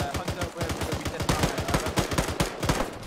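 Rapid automatic gunfire from an Arma 3 combat mission, dense bursts of loud shots cracking back to back for the whole stretch with little pause, close and continuous.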